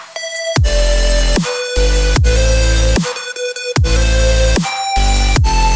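A dubstep track plays loud and full, a mono lead over a reverb-spread layer, with heavy bass hits and chopped synth notes pulsing in a steady rhythm.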